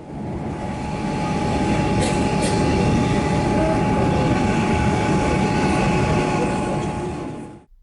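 A Melbourne city-bound metro train rumbles steadily along the tracks, a loud, continuous roar of wheels and carriage noise with a faint whine, swelling slightly before easing off.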